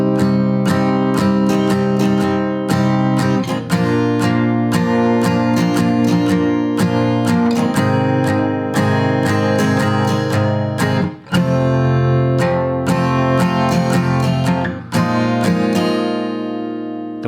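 Acoustic guitar playing the riff from a song, bright picked notes and strummed chords in a steady rhythm, close and loud, with no talking.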